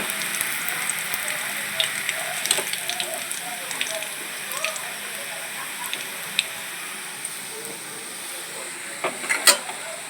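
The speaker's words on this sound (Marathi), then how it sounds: "आपण कांदे फ्राय करायला ठेवलेले आहे" Steady sizzling of onions frying in oil in a pan, with scattered crackles and pops and the occasional clink of a utensil.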